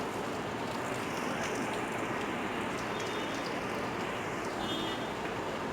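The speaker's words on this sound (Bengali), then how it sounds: "এই দেখো বৃষ্টি শুরু হয়ে গেছে" Rain beginning to fall, a steady, even hiss and patter filling the whole stretch at moderate level, with no voices.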